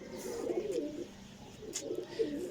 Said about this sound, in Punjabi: ਕਬੂਤਰਾਂ ਨੇ ਦਾਣਾ ਪਾਣੀ ਖਾਧੇ ਅਜੇ।